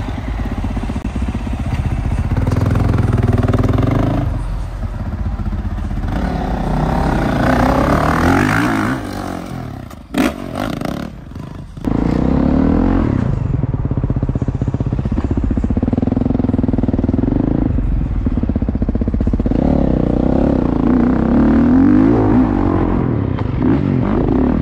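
Dirt bikes rev and ride through downtown Los Angeles, a loud, continuous roar of engines with rising and falling revs and a brief dip midway, close by.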